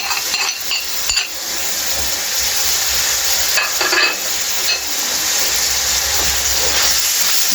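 Chicken curry with coriander, turmeric and freshly ground black pepper frying in a pan, a steady loud sizzle and hiss with occasional stirring scrapes, no talking.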